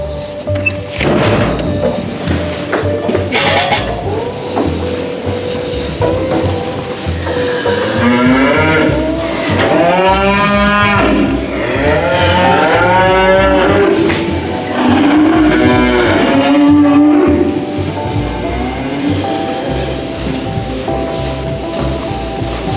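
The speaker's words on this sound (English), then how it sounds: "There's 8 pens of cattle." Cattle in a Minnesota slat barn holding about 850 head, many overlapping moos and bellows rising and falling, some near and loud, others farther back, over a continuous barn rumble, with faint talk.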